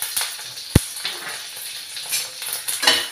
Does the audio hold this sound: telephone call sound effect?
no